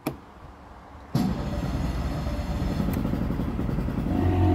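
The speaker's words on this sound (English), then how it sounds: "let's see if the outboard starts and" A sharp click, then an outboard jet engine on a pontoon boat abruptly cranks and catches, settling into a loud, steady running drone.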